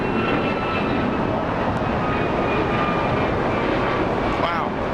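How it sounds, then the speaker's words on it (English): An Alaska Airlines Boeing 737 MAX 9 takes off from Los Angeles International Airport with a continuous, loud jet roar. Faint narration can be heard beneath the engine noise. "the other one taking off"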